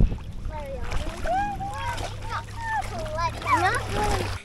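Paddles splash and water sloshes around a 17-foot canoe out on a mountain reservoir, while children's voices and chatter run over the intermittent watery splashes.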